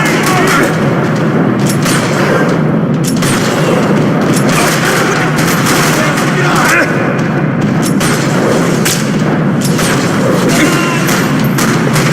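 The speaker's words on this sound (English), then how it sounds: "Another parking lot rattling with gunfire." Gunfire in the Max Payne 3 video game cracks through a parking lot in repeated sharp bursts and booms over a dense, loud backdrop, with a voice speaking amid the shooting.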